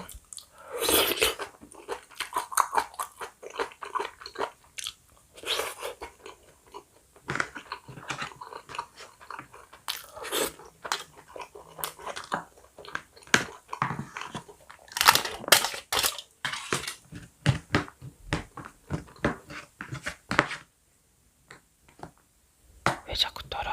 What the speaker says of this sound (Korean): 돈가스 소스에 팍팍 찍어가지고 한 입에 쏙.